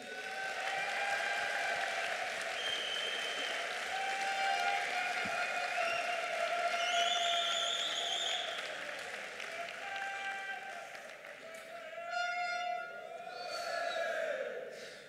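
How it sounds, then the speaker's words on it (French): Audience applause at the 51st Jeunes Agriculteurs agricultural congress, a steady broad wash of clapping from a large hall crowd lasting throughout, with some whistles or tonal noise mixed in. "je pense qu'on peut déjà les applaudir"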